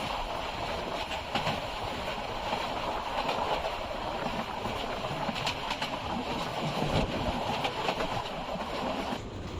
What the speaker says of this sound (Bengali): আমাদের ট্রেনটি এখন আরিঘোলা রেল স্টেশন অতিক্রম করছে